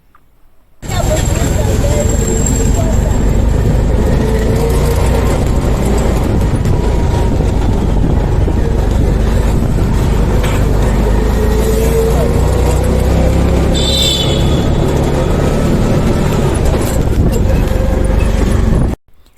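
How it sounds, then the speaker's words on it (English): Ride inside a moving tricycle on a Lagos street, carrying a steady loud engine drone and road rumble from start to finish, with a brief whine partway through and a voice speaking over the motor. "So eventually I was inside the tricycle going to the riverine side to see things for myself."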